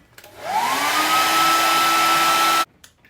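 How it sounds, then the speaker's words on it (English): A hair dryer switches on, whines up to speed and blows with a steady loud whoosh for about two seconds before cutting off abruptly. "Then I'm going to give it a blast with the hairdryer."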